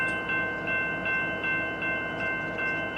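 A BNSF freight train sits with its diesel locomotives running, giving a steady low idling rumble with a faint high whine. The sound is continuous and close, and nobody speaks.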